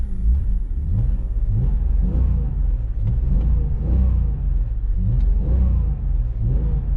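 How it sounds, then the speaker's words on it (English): A BMW E46 wagon engine revs on throttle in repeated quick blips, a loud, close rumbling rise and fall several times in a row with no talking. "Look at this throttle response."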